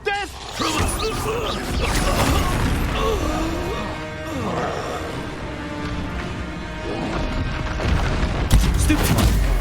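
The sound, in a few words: explosion spells Expulso and Confringo in the video game Hogwarts Legacy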